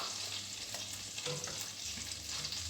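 Washed rice cooking in a pot makes a soft, continuous bubbling hiss, with a few light scrapes and knocks as it is stirred, all fairly quiet and close, with no speech.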